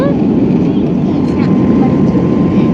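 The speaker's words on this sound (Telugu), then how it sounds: "ఈరోజు నేను విమానంలో ఉండి ఆకాశాన్ని చూస్తున్నాను చాలా పైకి వచ్చేసాము" Steady, loud, broadband roar of a passenger airplane cabin in flight, a constant engine and air rush with no voices in it.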